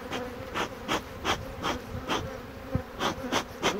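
Honeybees swarm around a hive, a dense buzzing drone pulsing in rapid regular surges as bees fly past close by.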